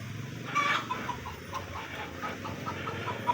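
Chickens cluck softly in a coop in a village over a steady background hum, with a few higher bird-like calls mixed in, somewhat distant.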